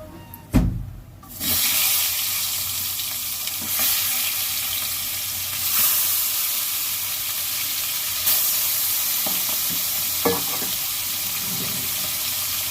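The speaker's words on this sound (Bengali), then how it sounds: "মাছের মাথাটা ভালো করে ভেজে নেব লাল লাল করে" Fish head frying in hot oil with salt and turmeric, a steady close sizzle that runs the whole time with a few louder spatters and stirring knocks.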